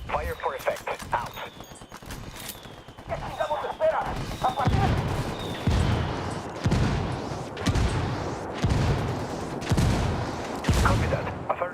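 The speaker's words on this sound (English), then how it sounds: "I called the rebels for mortar fire." Mortar fire called in by rebels in Ghost Recon Wildlands lands as repeated heavy booms and blasts in irregular bursts, with voices talking over the barrage.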